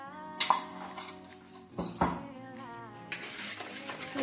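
Caster sugar and brown sugar are stirred together in a bowl, making close clinking and scraping of a utensil against the bowl in a few irregular bursts, with no talking.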